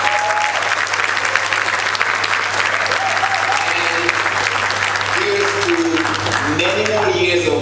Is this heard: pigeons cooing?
no